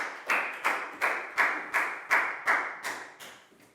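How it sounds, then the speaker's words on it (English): Classroom clapping for a pupil during a primary school health lesson: about ten evenly spaced, sharp group claps in a steady rhythm, close and clear, fading slightly at the end. "Big round of applause for Lakgao"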